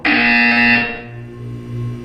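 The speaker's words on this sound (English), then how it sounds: "You will hear a buzzer." A loud electronic buzzer from the Portal 2 video game sounds once, a harsh tonal blare lasting under a second before decaying into a lingering hum.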